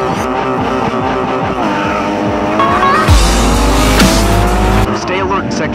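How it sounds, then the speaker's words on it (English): A Nissan Skyline R34 GT-R Z-Tune in the Grid 2 racing game squeals its tires through sweeping bends while drifting, the loud engine whining up and down under a continuous screech, with a race commentator talking over it. "To practice getting your car sideways in a drift, the sweeping bends are ideal."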